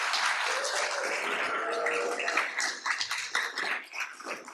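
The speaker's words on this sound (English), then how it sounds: "let's give a round of applause to the Maya Academy family that's here" Audience applause at a graduation ceremony for the academy's families, dense crowd clapping throughout that thins and becomes more uneven toward the end.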